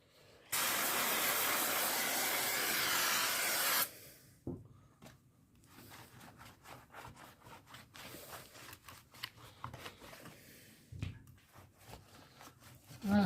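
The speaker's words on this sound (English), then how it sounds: "Give it a squirt of brake fluid." Brake fluid sprayed onto a clutch friction plate: a loud, steady aerosol hiss for about three seconds, then quieter rubbing, clicks and handling noises.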